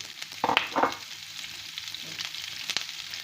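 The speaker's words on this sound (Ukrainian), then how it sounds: "Я додаю в сковорідку капусту." Steady sizzling of cauliflower frying in a hot pan, with a few louder crackles and stirring clatters near the start.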